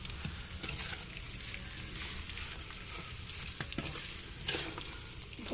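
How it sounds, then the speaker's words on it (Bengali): Boiled mashed potato with onion and dried chilli frying in oil, a continuous soft sizzle and crackle with occasional stirring scrapes, steady and fairly quiet throughout, with no talking. "এখন এটার সাথে দিয়ে ঠিক এভাবে করে তেলে ভেজে নিব"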